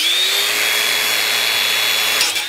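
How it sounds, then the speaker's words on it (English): An X-Lock angle grinder with a blade brake whines at full speed, then its disc is braked to a quick stop, loud and close, with no talk. "You can see how quickly that brake stops the blade."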